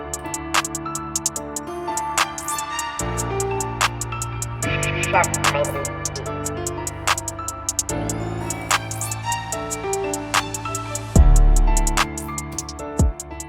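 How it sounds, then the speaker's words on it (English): A hip-hop beat plays with punchy piano chords and hard, crisp drums: steady hi-hats, snappy snares and booming bass hits. "hard-hitting piano, hard-hitting drums."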